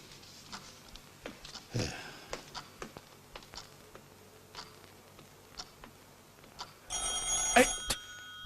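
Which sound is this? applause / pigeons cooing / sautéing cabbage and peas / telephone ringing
telephone ringing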